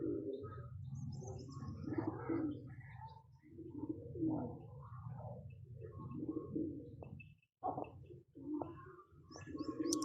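A high-flying pigeon kept by a pigeon fancier coos steadily and nearby, its low throaty calls rolling on in repeated phrases with short pauses and a few faint chirps above, with no talking.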